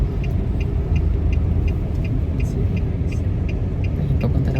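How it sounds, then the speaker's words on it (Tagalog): Road traffic in Davao: close, steady engine rumble from passing cars and buses, with a regular light ticking on top and faint voices in the background. "Traffic po ngayon dito sa Davao."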